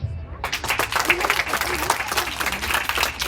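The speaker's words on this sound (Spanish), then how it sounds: "nuevamente el aplauso fuerte que se escuche para los niños" An audience applauds after a children's play about Benito Juárez at a cultural campfire event, loud sustained clapping that starts abruptly and continues steadily throughout.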